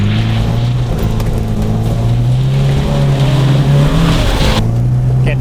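A 1977 MG B roadster drives hard onto gravel on a classic rally stage, its engine droning loud and steady close by, with a rising pitch near the end before dropping back, under a constant rush of road and wind noise.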